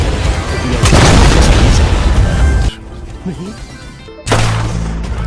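Gunshots in Red Dead Redemption 2 land as heavy booming blasts, loud and close, with a sudden quieter gap before another burst, under a voice speaking.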